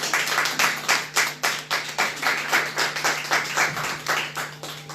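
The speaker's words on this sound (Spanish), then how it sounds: "Den un aplauso al Señor." Congregation at a Spanish-language church service clapping in a steady rhythmic beat, many hands together, sustained and fairly loud throughout with no talk over it.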